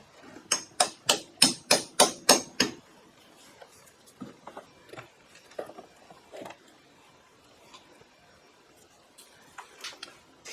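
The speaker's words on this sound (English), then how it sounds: "I'm going to give it a few taps with a hammer, gentle taps." A quick run of seven sharp metallic hammer taps on a Ford F150 steering shaft in steady rhythm, followed by scattered lighter knocks and taps at irregular intervals.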